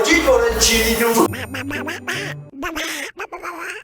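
Cartoonish duck quacks, several loud rapid calls near the mic, followed by other voices and sounds; talk follows in the latter part.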